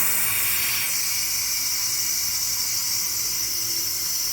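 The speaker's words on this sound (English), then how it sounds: "You can't see the steam, but it's still coming off my canner." Steady, loud hiss of steam escaping under pressure from a T-Fal pressure canner, continuous and unbroken from start to finish.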